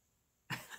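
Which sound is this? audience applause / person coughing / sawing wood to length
person coughing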